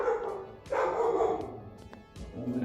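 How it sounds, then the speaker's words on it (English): A pet dog barks indoors in a few short bursts, fairly close and moderately loud, with quiet gaps between the yaps. "Yep, that's my dog."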